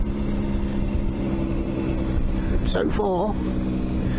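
A Triumph Tiger 955i motorcycle being ridden at low speed, a steady engine drone under heavy wind rush, close and loud, with someone talking briefly over it.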